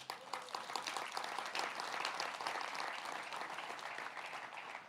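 A church congregation claps together during a Spanish-language prophetic school service, producing a dense, continuous wash of applause that holds at a steady, moderate level with no voices above it.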